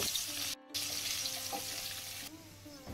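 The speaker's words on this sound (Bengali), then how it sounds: "আলুগুলোকে একটু সময় নিয়ে 3-4 মিনিট ভেজে নেব।" Potatoes frying with cumin in a wok, a soft steady sizzle with faint stirring sounds, briefly cut off near the start and low in level overall.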